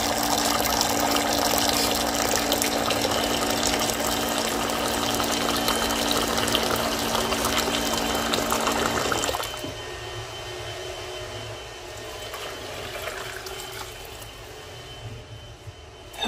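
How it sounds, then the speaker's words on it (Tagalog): Hot water pours steadily into a pot to bring it to a boil, a continuous close gushing splash with a pump-like hum that drops to a quieter, thinner trickle partway through, no voices. "Mainit na tubig guys ang ating ilalagay para madali siyang mag-boil."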